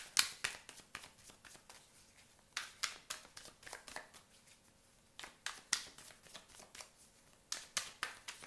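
Tarot cards are shuffled up close with quiet, crisp riffles and slaps that come in short irregular bursts, with soft pauses between them.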